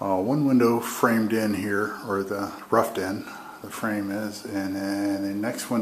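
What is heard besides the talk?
No everyday noises stand out.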